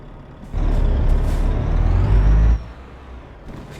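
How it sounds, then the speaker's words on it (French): Heavy truck engine rumbling loudly in Euro Truck Simulator 2, swelling for about two seconds with a hissing air brake release on top, then dropping back to a lower idle drone. "C'est toujours fort, hein, le son du camion"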